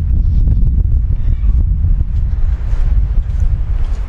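Wind buffets a microphone outdoors on a clear, low-sun Sunday morning at a Blackpool building site, a loud, continuous low rumble with gusty fluctuations throughout.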